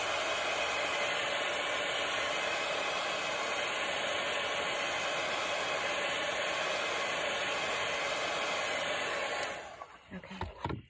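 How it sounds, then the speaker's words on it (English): A hair dryer blows steadily on chalk paint drying on fabric grain sack tags, a loud, close, even hiss that cuts off near the end. "Let me blow dry this really quickly."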